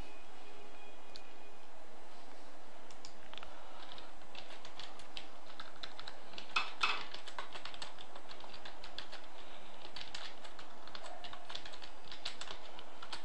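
Fingers tap rapidly on a computer keyboard while writing a Python script in Blender, a dense run of close, crisp key clicks with brief pauses and no talking.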